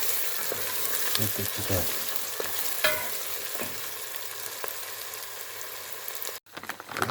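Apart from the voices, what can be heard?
curry being fried in a pan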